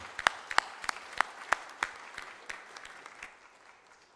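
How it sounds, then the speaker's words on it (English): Audience applause in the Marble Hall at a military thinking conference panel: a sparse run of distinct claps, fairly sharp at first and then thinning and fading over about four seconds. "I invite you to applaud them and continue the conference."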